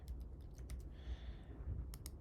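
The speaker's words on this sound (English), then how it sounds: "let's go ahead and type in Moby Dick" Fingers typing on a computer keyboard: a short run of light, quick key clicks, fairly faint and close, with a pause mid-way, over a low background hum and no talking.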